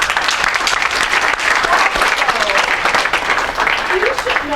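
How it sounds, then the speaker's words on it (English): An audience at a poetry reading event gives loud, sustained applause, a full dense roar of clapping throughout, with a few voices faintly audible underneath. "So let's give them an applause."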